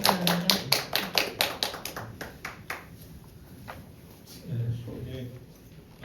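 A handful of people clap in a run of sharp, separate claps that thin out and fade, followed by a low murmur of voices in a gathering.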